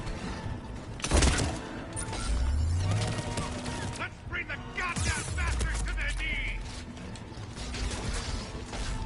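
Gunfire in Mass Effect 3 during the attack on Palaven crackles in a dense exchange of shots and mechanical clatter, with a burst of heavier blasts, over a loud battle backdrop.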